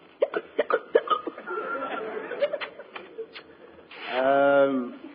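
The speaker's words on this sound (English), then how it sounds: "If only you stop those awful hiccups." Comic hiccups in a vintage radio comedy come as a quick string of short vocal jolts amid snickering, then a longer voiced, laugh-like burst at the end.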